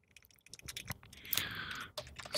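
Rapid clicking of computer keyboard keys in a Minecraft session, a quick irregular burst of taps up close that rises to a denser flurry midway, with a few scattered clicks at the end.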